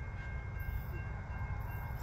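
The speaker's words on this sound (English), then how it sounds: "It's a big one. Train!" A big train rolls past, a steady low rumble and rail noise filling the whole stretch at moderate level with no voices over it.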